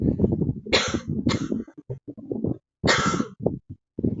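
A series of harsh, bursting coughs from one person, loud and close, with breathy gaps between them.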